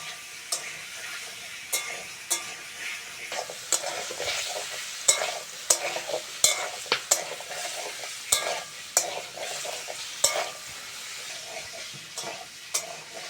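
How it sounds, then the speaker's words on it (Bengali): Vegetables for a gadali curry stir-fried in a pan, a steady sizzle broken by repeated scraping strokes of a spatula at an even rhythm, close and clear with no talk. "অল্প করে ভেজে নিয়েছি, এবার মশলাগুলো দিয়ে দেবো।"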